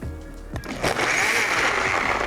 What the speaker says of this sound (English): now let's get blending